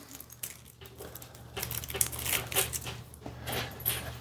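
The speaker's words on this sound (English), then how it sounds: "sorry if you hear the little jingling and clicking around us. Our dogs are sitting here in the kitchen with us" Dogs moving about a kitchen, with small jingling and clicking sounds like tags and claws scattered across the clip alongside faint crinkling of a plastic zip bag, fairly close and at low volume.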